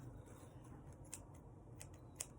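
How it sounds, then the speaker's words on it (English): Dull scissors snip through white string, giving two or three brief crisp cuts spaced about a second apart over a quiet low hum, close to the listener. "With my very dull scissors."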